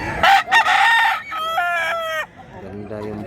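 A golden boy gamecock crows loudly and close, a strong harmonic call with a break in it, followed by softer clucking from fowl nearby.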